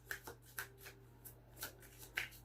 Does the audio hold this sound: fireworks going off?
no